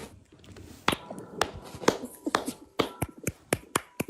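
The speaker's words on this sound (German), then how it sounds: "klatscht in die Hände" A group claps their hands during a party game, sharp close claps that start sparse and speed into an uneven rapid run, with no talk.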